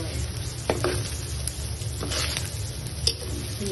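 Onion, garlic and spring onion sautéing in oil, a continuous close sizzle broken by scattered clinks and scrapes of stirring.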